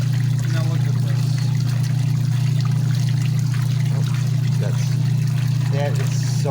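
A GE Filter Flo washing machine fills with water on a permanent press cycle with towels inside. A soft trickle runs under a strong, steady low motor hum, and muffled voices come and go.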